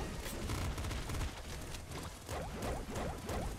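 Rapid bursts of energy weapon fire from a mini plasma cannon in the video game Nuclear Throne during a boss fight, dense layered blasts and whooshes continuing throughout without speech.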